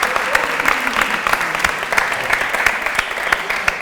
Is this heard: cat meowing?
no